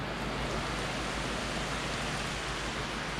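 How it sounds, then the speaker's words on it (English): Heavy rain pours steadily in a dense, unbroken hiss, loud and close, with no voices. "it's pouring down the rain."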